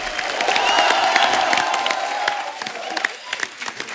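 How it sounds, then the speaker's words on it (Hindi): The studio audience of The Kapil Sharma Show claps and cheers over a steady musical tone. The applause is busy and crowd-like, and it thins into scattered, sharper claps toward the end. "एक बार जोरदार तालियां हमारे शाख्स के लिए"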